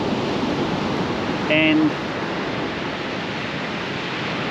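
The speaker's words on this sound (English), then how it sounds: "we shall wait for a decent set of waves to come in" Ocean waves rolling onto a beach make a steady, dense wash of broadband noise throughout, while a brief spoken word and a short electronic beep cut in near the start.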